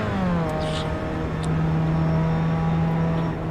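A Pontiac race car engine in the iRacing simulator drones steadily on the Atlanta Motor Speedway road course, loud and close, holding a sustained buzzing pitch after a brief early dip, with no voices over it.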